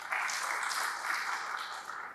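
Church congregation at an online worship service in Lampung gives applause, a faint, steady wash of clapping heard from a distance, with no clear individual claps.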